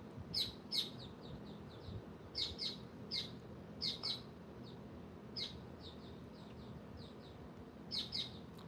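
A small bird perched on a fence outdoors gives repeated high, bright chirps in short bursts, moderately near, over a low steady outdoor background hum.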